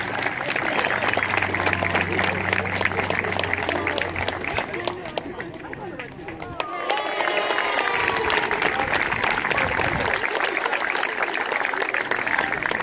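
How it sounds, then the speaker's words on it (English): Broad, sustained applause and cheering from a crowd at a youth baseball game in Gainesville fills the whole stretch, steady and fairly loud, with a brief low tone near the start. "let's have a big round of applause for Jim Krause."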